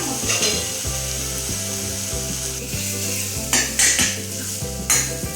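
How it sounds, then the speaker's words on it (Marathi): Patvadi mixture with onion, coconut and poppy seeds sautéed in oil in a pan: a continuous close sizzle with rhythmic scraping and clinking of a spatula stirring throughout. "छान असं तेल सुटेपर्यंत परतून घेऊया आपण."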